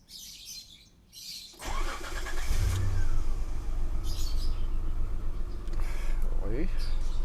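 A Gen 2 Mitsubishi Montero/Pajero, parked unused for a week, cranks briefly and starts, its engine settling into a loud steady idle close by, with birds chirping in the background and a voice speaking near the start.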